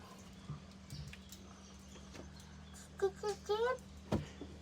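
A voice imitates a baby bird with a quick series of short, high chirps and cheeps, fairly close and clear against a steady low hum.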